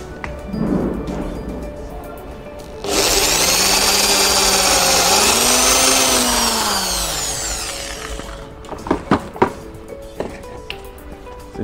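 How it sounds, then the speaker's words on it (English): A power drill whines loudly and steadily for several seconds, boring a mounting hole for a flush-mount enclosure, its pitch rising and falling, then stops, followed by a few sharp knocks. "And drilling the second hole"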